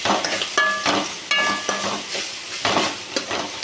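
Greens sautéing in a frying pan for a home-cooked chutney, with repeated scraping stir strokes over a steady soft sizzle, close and fairly loud with no talking.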